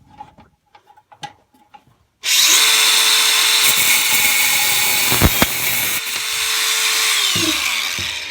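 An angle grinder cuts metal on a 1976 Puch Maxi moped, a loud, sustained close whine that starts abruptly after a few quiet knocks, holds steady with slight pitch shifts, then winds down near the end.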